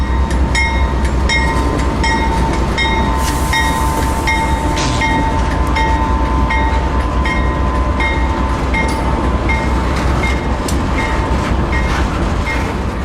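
A loaded freight train of hopper cars pulled by diesel locomotives running on biodiesel rolls past steadily and loudly, wheels clicking rhythmically over rail joints with a constant rumbling drone throughout.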